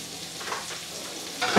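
Onions stirred and sautéed in pork chop drippings give a steady close sizzle with scraping stirs, and a louder burst of frying near the end.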